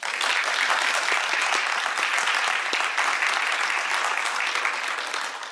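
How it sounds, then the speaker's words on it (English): A full room claps for award recipients at a college student awards night, a dense, even wash of applause that holds strong before easing slightly at the end. "Let's have another round of applause for our award recipients tonight."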